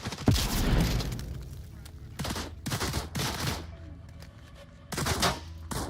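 Bursts of in-game grenade explosions and gunfire come in several loud, sharp blasts with short gaps between them, and players talk faintly underneath.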